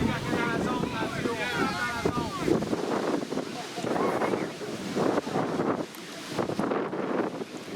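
Strong wind buffets the microphone at an outdoor youth baseball game, a continuous roaring rush that swells in gusts, with people talking underneath.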